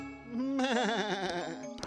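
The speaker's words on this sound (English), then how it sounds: "It's a sheep." Cartoon sheep bleating in a wobbly, vibrato voice, one long quavering bleat loud and close, with a faint tinkle near the end and no talking.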